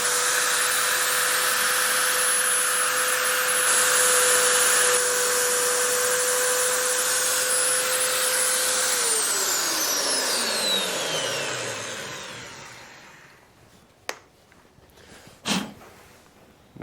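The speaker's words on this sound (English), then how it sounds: "this mag drill about to run off this little battery bank" A magnetic drill powered from a small battery bank runs with a loud steady motor whine, then winds down in pitch until it stops, followed by a couple of sharp clunks.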